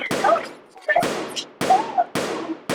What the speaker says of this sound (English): That gunfire?